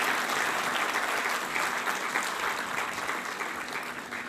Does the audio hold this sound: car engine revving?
no